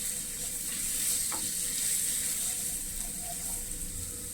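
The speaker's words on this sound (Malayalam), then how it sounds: "അര ടീസ്പൂൺ മഞ്ഞൾപ്പൊടി, 1 സ്പൂൺ മുളക് പൊടി. നന്നായി ഇളക്കി കൊടുക്കുക." Turmeric and chili powder fry in a hot pan, a steady close sizzle and hiss running throughout, with faint scrapes as a spoon stirs the spices.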